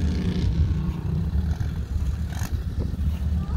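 A 1953 Co-op E5 tractor with a Buda 272 cubic inch, 54 horsepower engine runs with a low, steady rumbling drone close by, alone without talk.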